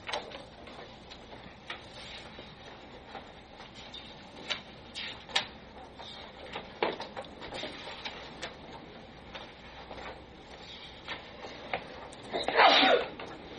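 Near the end comes a single sharp sneeze in a township trustee meeting room, preceded by quiet clicks, paper handling and faint room noise.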